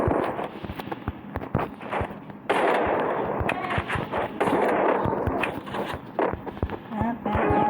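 Gunfire in a shooting video game comes as sharp, repeated shots and rapid bursts, loud and close, scattered across several seconds with short pauses between volleys.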